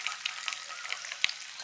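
Eggs frying in a pan and being turned and stirred, giving a steady close sizzle with small scraping clicks and a sharper knock near the end, with no talking.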